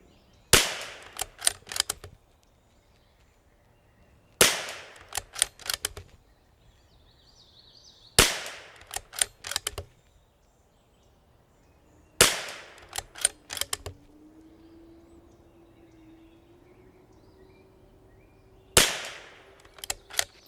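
Bergara B14R rimfire rifle firing SK Standard Plus ammunition, sharp cracks in five clustered strings spread over about twenty seconds, each followed by fainter clicks and clatter, with no talk.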